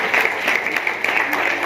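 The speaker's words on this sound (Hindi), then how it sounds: "हमारे वियतनाम से आए सभी मित्रों के लिए भी एक बार तालियां बजा दीजिए" An audience at a film press conference applauds steadily and loudly in a hall, dense clapping filling the short moment without pause.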